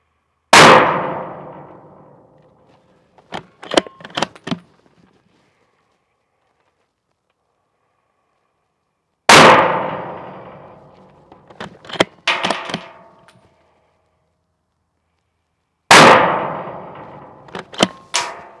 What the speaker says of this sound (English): Let's send some rounds downrange.